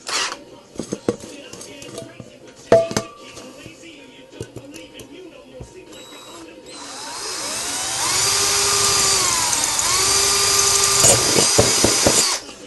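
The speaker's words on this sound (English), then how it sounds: "When you're drilling through stainless steel as well, I suggest you start on low size drill bit." A high-pitched power drill whines steadily through stainless steel, preceded by scattered clanks and handling noises, the motor pitch wavering as it bites.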